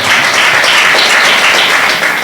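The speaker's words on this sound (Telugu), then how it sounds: "కొంచెం గట్టిగా చప్పట్లు కొట్టి దేవుని నామాన్ని కనపడతాను" A church youth meeting audience claps loudly in sustained, dense applause that stays steady throughout and has no talking over it.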